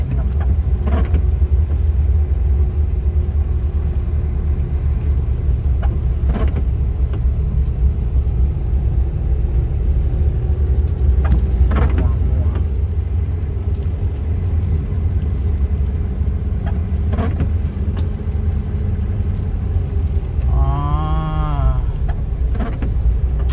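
An Isuzu Deca 22-wheel truck strains on a hill and rolls back, its engine a loud steady rumble throughout, with faint voices and a brief horn-like tone near the end.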